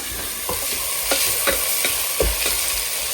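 Salna masala with tomato and spices sautéing in a pan: a continuous close sizzle broken by regular scraping strokes of a spoon stirring, roughly every half second, with no talking.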